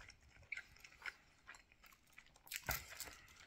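Someone bites into and chews a kebab from a shop in Kielce, producing a few faint, close crunches and wet chewing sounds in an irregular rhythm, with one louder crunch near the end.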